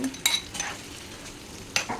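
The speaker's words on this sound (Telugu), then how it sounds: "మనం పన్నీర్ ముక్కలకి ఉప్పు కారం పట్టించాం కదా వాటిని నూనెలో వేయిస్తున్నాను నేను" Paneer pieces coated with salt and chili powder fry in oil in a pan over medium flame, giving a soft, close sizzle broken by two sharp metal utensil clinks.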